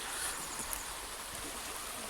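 A brook in Michael Wood near the Little River Avon flows beneath a bridge as a steady, soft hiss of running water, continuous and unbroken.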